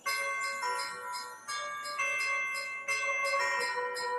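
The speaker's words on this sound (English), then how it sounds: "ding dong, ding dong, ding dong, ding dong, ding dong. Can you hear the sound?" Christmas bells chime in a repeating ding-dong melody, bright sustained tones ringing in overlapping sequences, fairly close and steady with no talk.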